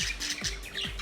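A budgie chatters in quick warbling chirps and tweets while bobbing its head in a mating display, the bird sounds continuous and close for about a second with no talk.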